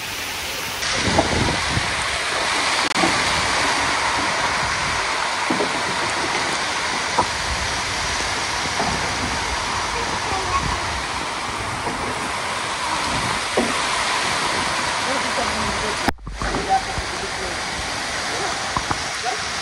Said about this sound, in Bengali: চমৎকার বৃষ্টি।